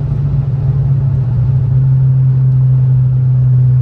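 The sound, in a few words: VW Up TSI stage 3 car engine revving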